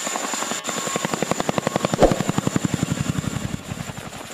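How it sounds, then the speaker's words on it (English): A CH-47 Chinook heavy-lift tandem-rotor military helicopter thumps with a fast, even rotor beat and a steady engine whine, loud and close, the pulses swelling slightly midway. "The CH-47 Chinook is a powerful heavy-lift helicopter used by the United States military."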